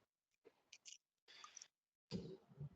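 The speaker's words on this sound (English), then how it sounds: "how audible is my crunching?" Crunching while chewing food, heard as a few short bursts of close, soft mouth noise separated by pauses, the last burst louder and denser.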